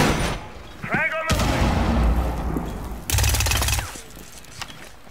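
A frag grenade goes off in Rainbow Six Siege with a loud broadband blast, followed by a second burst of heavy gunfire and explosion noise, while players talk over the action.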